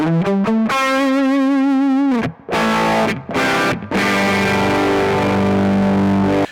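Electric guitar through a Plus DS distortion pedal placed after the amplifier in a Kemper Profiling Amp, loud sustained distorted chords and notes with short gaps, ringing out alone up close.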